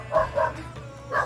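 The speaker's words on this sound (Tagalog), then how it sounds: "Pasensya na po sa mga aso." Several dogs bark in a short burst: two quick barks close together, a pause, then a third bark, fairly near and loud, on an afternoon outing.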